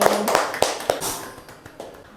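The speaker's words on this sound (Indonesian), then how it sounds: "Tepuk tangan untuk 2 kelompok ini." A small classroom audience gives a short burst of clapping for two student presentation groups. The claps are sharp, close and unevenly spaced, starting strong and thinning out over a couple of seconds.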